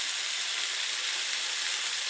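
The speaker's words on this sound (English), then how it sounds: "I've got it down to a very low simmer" Sausages simmer in a pan on very low heat, giving a steady, hissing sizzle that holds evenly at moderate loudness with no talking.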